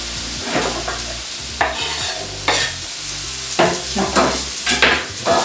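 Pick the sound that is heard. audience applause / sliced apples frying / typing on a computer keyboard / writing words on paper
sliced apples frying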